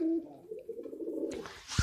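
Domestic pigeon cooing close by, a low rolling coo lasting about a second, followed by a short rustle or bump.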